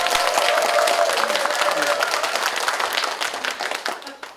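An audience applauds at a Won Buddhist talk concert, a dense, loud wash of clapping from a crowd that gradually thins and fades, with a voice briefly heard early on.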